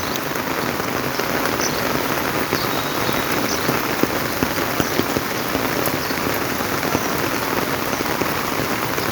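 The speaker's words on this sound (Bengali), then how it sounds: "বিকাল 3:30টার সময় বৃষ্টি হচ্ছে, খুব চমৎকার বৃষ্টি হচ্ছে ভাই।" Afternoon rain falling steadily among green trees, a dense, even patter of drops on surfaces that holds constant and fairly loud throughout, with no voices.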